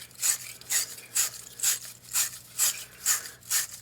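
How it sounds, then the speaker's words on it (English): A wire brush scrubs inside a 3/4 inch copper fitting to prepare it for soldering, making eight close, rhythmic scratchy strokes evenly spaced at about two per second, with no voices. "It's got this brush here that you'll take in and"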